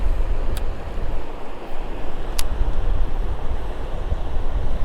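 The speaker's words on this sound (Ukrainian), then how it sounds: "Сьогодні сильний дуже вітер." Steady heavy wind roars and buffets against the microphone while fishing for perch in summer, a dense rumbling rush with no pauses, like gusts near open water.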